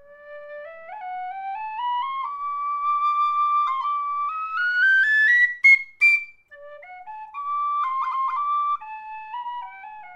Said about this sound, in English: It's made as a quieter whistle, but it's still beautiful.